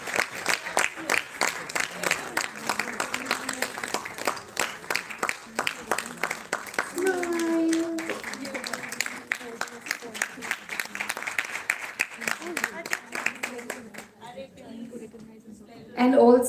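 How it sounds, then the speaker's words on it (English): Sustained clapping from an audience at a live Basant Utsav spring festival event, steady and moderately loud, with talk over the clapping partway through before it thins out near the end. "Keep clapping. Don't get tired."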